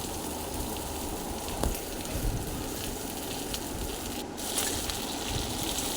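Diced onion, capsicum and tomato stir-fried in hot oil for chilli soyabean, a dense continuous sizzle with light scraping and a small surge near the end.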